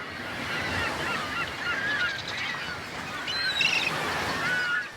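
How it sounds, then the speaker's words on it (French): Seabirds call with honking, goose-like cries from icebergs, heard at moderate distance over a steady wash of waves and wind at sea. "sur les icebergs, il y a souvent des oiseaux"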